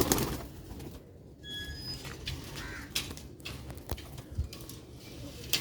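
Pigeons on a rooftop coo in short soft bursts with occasional wing flaps and clicks over steady outdoor background noise, moderately close.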